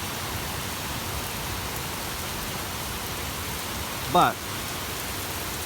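Torrential rain pours down over a flooded front yard as a steady, dense hiss, with one brief spoken word cutting through near the end.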